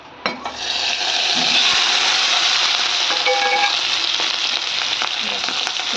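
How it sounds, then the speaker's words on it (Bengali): Fish roe frying in a pan, a loud steady sizzle filling the whole stretch with a few light clinks of a utensil against the pan. "এখন একটু মাছের ডিমটাকে ভেজে নেবো"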